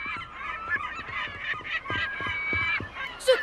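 A flock of geese honks in dense overlapping calls, loud and near, a continuous noisy chorus of goose-like honking.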